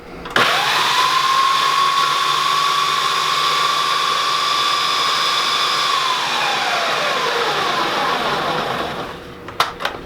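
A Ninja blender motor whirs loudly at a steady high pitch for several seconds crushing Ritz crackers, then winds down, followed by a couple of small clunks.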